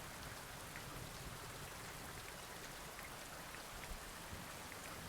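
Rain in the video game inKONBINI, a dense, even patter of raindrops falling continuously, soft and steady with no talk.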